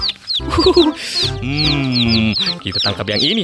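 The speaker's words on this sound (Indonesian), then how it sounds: "Widih, banyak sekali ayam rainbownya." Rainbow-coloured chickens clucking and squawking close by in a busy flock, repeated sharp calls and cackles overlapping, with a person speaking briefly among them.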